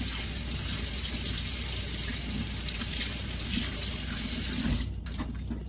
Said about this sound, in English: Rinse with hot water.